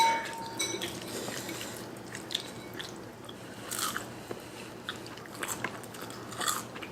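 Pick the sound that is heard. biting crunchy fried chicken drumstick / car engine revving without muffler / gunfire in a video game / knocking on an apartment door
biting crunchy fried chicken drumstick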